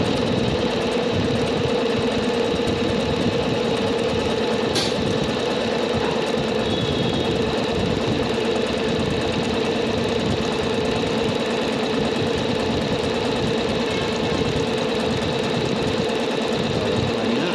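A Singer C5205 sewing machine runs steadily through a buttonhole stitch, giving a continuous close mechanical whirr and hum that stays even throughout, with no talking.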